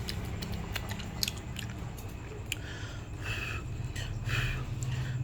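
Close, wet chewing of a bite of stir-fried eggplant with pork, soft squishy bites and mouth clicks over a faint background hum, with no talking.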